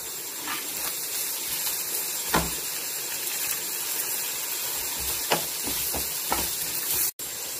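Ginger and garlic added with onion to a hot pan for prawn biriyani, giving a steady, even sizzling hiss with a few faint clinks, and no voices.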